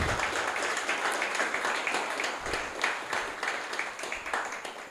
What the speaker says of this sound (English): So again, a wonderful round of applause for Kemal.